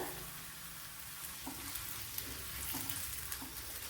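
Dried red chilies and chili flakes fry with browned onions in hot oil, giving a soft, steady sizzle with occasional light scraping and stirring taps.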